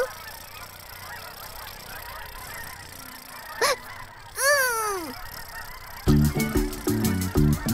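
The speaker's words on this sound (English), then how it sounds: "37 geese that were heading south for the winter" Geese heading south for the winter give two loud, separate honks, followed by a run of rhythmic, animated cartoon-style tones over a faint background.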